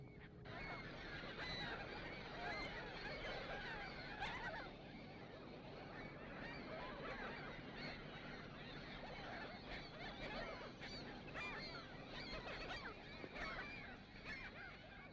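A dense colony of birds at Leslie Spit honking continuously, a thick overlapping chorus of calls at steady loudness, moderately distant and without pauses.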